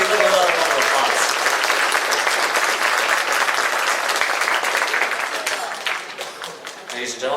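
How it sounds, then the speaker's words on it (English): Sustained audience applause at an award ceremony, a dense crowd of clapping that holds strong then thins slightly toward the end. "Let's give them a round of applause."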